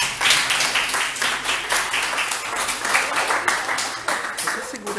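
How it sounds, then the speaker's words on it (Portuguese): A room of people at a school talk breaks into brisk, dense applause, many hands clapping together for several seconds, nearby and lively. "Palmas para eles."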